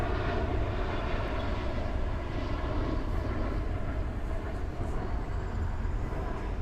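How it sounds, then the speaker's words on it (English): A jet aircraft passing overhead, a steady, fairly faint broadband roar that holds evenly throughout with no talking. "there's a jet going over right now."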